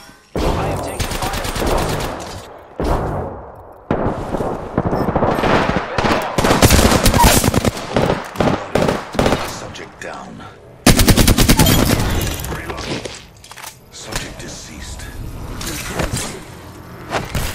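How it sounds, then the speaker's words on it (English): Gunfire in the video game Apex Legends: loud, rapid automatic bursts of shots in dense volleys, broken by brief pauses and a sharp louder volley partway through, with mechanical clicks between bursts. "I am taking fire."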